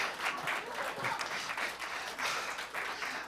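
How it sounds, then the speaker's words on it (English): Sustained applause for a performer at a live show, a steady wash of many hands clapping at moderate distance with gentle swells and no talking. "a big round of applause for Banana Muffin."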